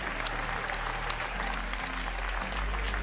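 Continuous audience applause for Team Sweden at the Bocuse d'Or Europe 2020 cooking competition final in Tallinn, dense clapping with some crowd noise and a low hum underneath.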